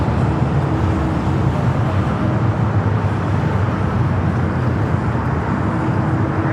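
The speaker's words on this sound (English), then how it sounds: "that's Delta 737 going around there on the north side" A Delta Boeing 737 airliner goes around at LAX on the north side, its jet engines a loud, steady, broadband roar that holds evenly throughout with no voices.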